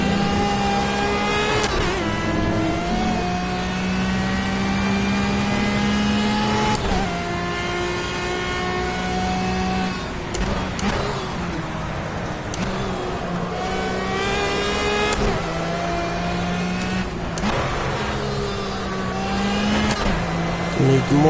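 A race car engine in Project Cars during a time trial revs hard through repeated gear changes, rising whines climbing then dropping at each shift, loud and close, with someone talking over it.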